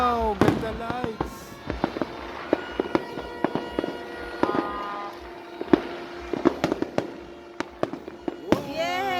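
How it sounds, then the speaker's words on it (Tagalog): Fireworks exploding at a New Year celebration: scattered sharp bangs and crackling pops at varying distances, some with whistling tails, while adults and a child chatter excitedly nearby throughout. "Ayun, fireworks."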